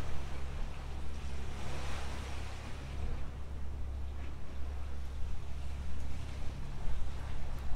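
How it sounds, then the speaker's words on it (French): Steady surf rolls and washes continuously, a broad hiss of breaking ocean waves with low rumble and some wind, uninterrupted and even in level. "C'est vous imprégné par le bruit du ressac."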